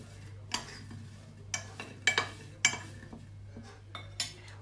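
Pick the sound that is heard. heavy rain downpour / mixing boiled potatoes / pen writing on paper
mixing boiled potatoes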